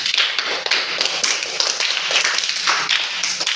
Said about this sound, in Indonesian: Beri aplaus buat temanmu